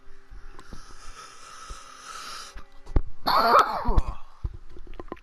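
A person coughs in a short harsh burst near the middle, following a quieter stretch of breathy, wheezy throat sounds, close and with no other sounds around it.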